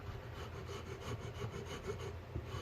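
Rough sandpaper rubs back and forth on the wooden body of an ES-335 style Hohner guitar build, a continuous close, grainy scraping with no voices.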